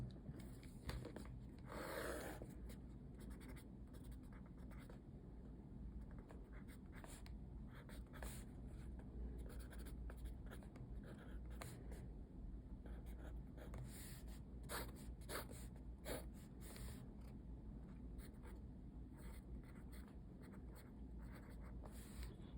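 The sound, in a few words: writing numbers by hand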